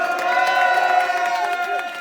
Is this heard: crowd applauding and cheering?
yes